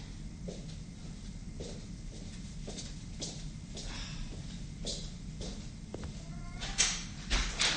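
A cat meows repeatedly in short, evenly spaced calls over a steady low background rumble, with a slightly louder call near the end.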